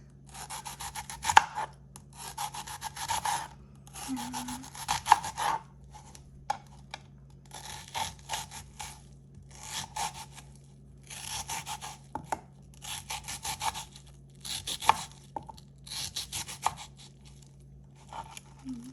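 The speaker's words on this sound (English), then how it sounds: "we're gonna take some onion and we're gonna cut it long ways, not diced" A knife slices an onion lengthwise on a cutting board in repeated bursts of rapid, close, rough strokes, separated by short pauses, with a low steady hum underneath.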